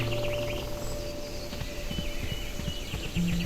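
Wild horses clip-clop with soft, scattered hoof taps in the Barbie Horse Trails video game, heard against a steady outdoor ambience with faint bird calls and no talking.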